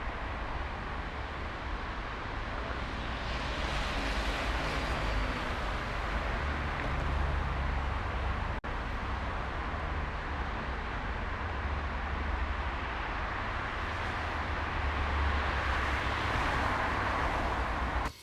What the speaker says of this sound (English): let me just drag a recording that I have made here of a busy street